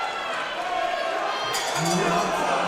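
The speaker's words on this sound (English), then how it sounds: "crowd all shouting and getting excited and calling on for their man" Crowd at a combat league fight night shouting and cheering, a steady roar of voices with rising excited calls toward the end, heard from within the venue.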